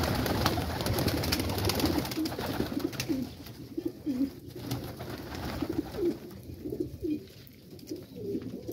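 Pigeons in a breeder's loft in Quetta coo in repeated soft throaty phrases, fairly close, with rustling and other faint loft noise around them.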